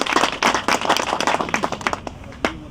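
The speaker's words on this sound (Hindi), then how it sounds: "मैं आपसे गुजारिश करूंगा ताली बजा के उनका भी स्वागत करें" An audience at a public gathering in Kashmir claps to welcome a guest, a dense burst of close and loud applause that thins out into scattered claps near the end.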